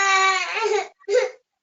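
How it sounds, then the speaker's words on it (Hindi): An infant cries in a sustained wail that breaks off briefly, then returns in a shorter sob, coming through someone's unmuted microphone during an online lecture. "किसी का ऑडियो चल रहा है, म्यूट कीजिए, बच्चे के रोने की आवाज आ रही है।"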